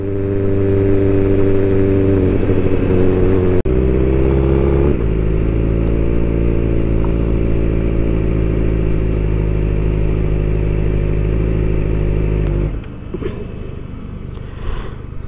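A Benelli TRK 502 adventure motorcycle idles close by with a steady, loud rumble that shifts pitch briefly early on, then settles into an even throb before cutting off near the end, leaving quieter outdoor sounds.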